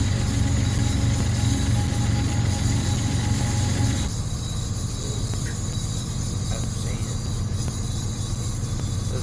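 A train locomotive engine in the Train Sim Classic game runs with a steady low rumble and droning mechanical hum, heavier at first, then easing slightly after a few seconds, continuous throughout with no talk.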